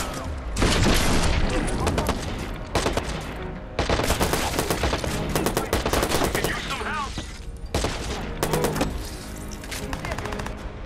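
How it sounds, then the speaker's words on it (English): Assault rifle fire in the Watch Dogs game, loud sustained automatic bursts broken by short pauses, heavy and close, with the battle noise carrying throughout. "I might as well use my assault rifle."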